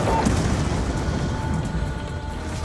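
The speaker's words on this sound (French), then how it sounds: "Le drone fonce droit sur l'hélico!" A drone slams into a helicopter in Call of Duty Black Ops 2, a dense, roaring explosion that rumbles loudly and continuously through the whole moment with no pause.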